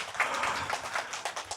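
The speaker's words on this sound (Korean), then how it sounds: "이럴 때 박수 한번 쳐주세요." Audience applause at a Korean church sermon gathering, a brief, faint burst of dense clapping that fills the short moment without any voice on top.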